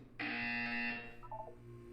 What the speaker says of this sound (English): You'll hear a buzzer. When you hear the buzzer, look up at the ceiling.